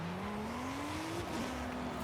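A 2011 Audi RS3 Sportback in Forza Horizon 5 with an AWD tune, engine note climbing steadily in pitch as it accelerates, then dipping briefly at a shift before holding, with faint tire noise underneath.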